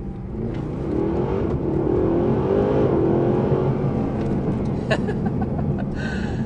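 A Mercedes SLS AMG Black Series engine revs hard as it downshifts on the move, a loud, close snarl that climbs in pitch and then settles into a steady roar, with brief clicks near the end.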